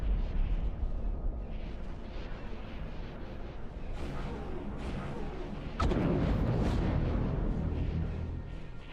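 Spaceship turrets fire in a dense, rumbling barrage in the X4 game, a loud continuous roar of blasts and booms with a sharp heavier burst partway through.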